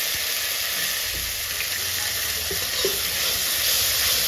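Turmeric and chili powder spice paste hissing in a hot pan after a splash of water, a steady close sizzle and steam hiss with occasional soft stirring scrapes, no voices.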